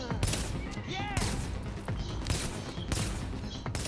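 Repeated gunfire bursts from the shooter video game The Division, loud and close in a fast rhythm, with a voice talking over the shots.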